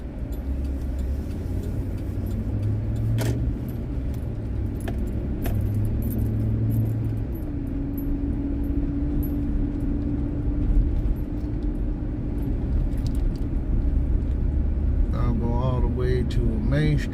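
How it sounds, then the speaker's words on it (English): Steady road rumble of passing car traffic on a boulevard in San Gabriel, heard from inside a moving vehicle, with a continuous low engine drone and occasional light rattles and clicks. "Boy, look at all the cars."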